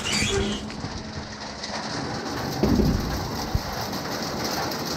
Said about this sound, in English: Well, all of a sudden it started raining at my house.